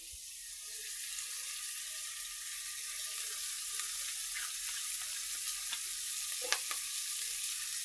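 Oil heats in a pan for a carp and sweet pumpkin curry, giving a steady, fairly faint hiss with occasional soft pops and a few brief scrapes, close by and without talk.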